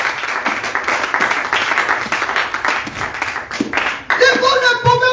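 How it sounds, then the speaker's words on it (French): A church congregation at a Pentecost Sunday service claps in rhythm for Jesus, with a loud, steady beat of many hands under a voice, and singing rises near the end. "clap for the Lord Jesus."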